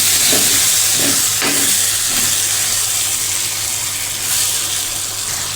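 Crushed chillies being stirred into an onion and tomato sabzi in a pan, a loud continuous sizzling hiss with a few soft scraping strokes early on, no talking.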